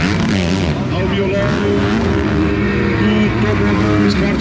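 Motocross motorcycle engines rev and accelerate on a race track at a Brazilian championship final, a loud wavering whine of rising and falling pitch, with a commentator talking excitedly over it.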